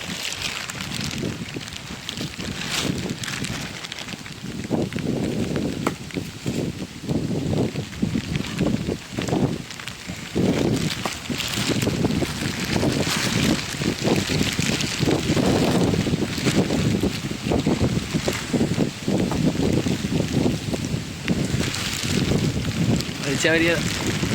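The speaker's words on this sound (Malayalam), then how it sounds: "നല്ല കാറ്റുണ്ട്." Strong outdoor wind buffets the microphone in loud, gusty rumbles that run continuously while people cut green coconut fronds up a coconut tree.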